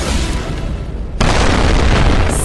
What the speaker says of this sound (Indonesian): Semuanya meledak.